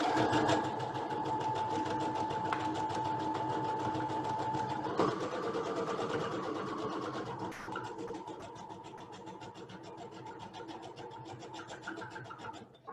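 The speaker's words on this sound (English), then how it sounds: "So I love a sewing machine." A sewing machine stitches fabric for a homemade cloth face mask, running continuously with a rapid mechanical whir and clatter, steady throughout, easing slightly in pace toward the end.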